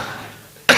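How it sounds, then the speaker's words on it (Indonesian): One short, sharp cough bursts out loudly near the end after a quiet room pause. "dengar saya batuk"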